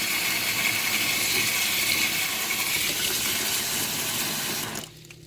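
Water gushes steadily into a bucket of aquarium substrate, a loud continuous pour that stops abruptly near the end, leaving faint trickling.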